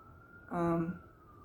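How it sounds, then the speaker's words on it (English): An ambulance siren outside gives a short, fairly loud wailing burst of about half a second, then fades back into quiet room noise. "will you be quiet, ambulance?"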